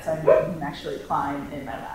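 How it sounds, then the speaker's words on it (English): A dog barks and yips a few times in the background, moderately loud, while someone speaks over it indoors and handles a cat. "That's my dog barking in the background."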